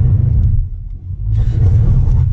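A Nissan Altima sedan driven off-road on a washed-out trail, its engine revving hard with a deep, loud rumble that dips briefly, then surges back with added high-pitched noise.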